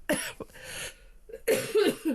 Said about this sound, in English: I've still got the cough